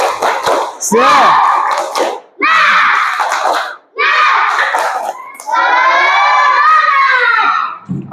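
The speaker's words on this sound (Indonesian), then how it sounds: "Oke, tepuk semangat." Schoolchildren in a classroom shout a loud rhythmic 'tepuk semangat' clapping chant in several energetic bursts separated by short pauses, voices dominating close by with claps mixed in.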